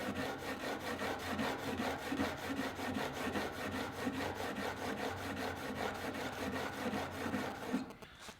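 A blade is sharpened on a diamond sharpening stone with a steady rhythmic scraping, dozens of even back-and-forth strokes close up, with no talking.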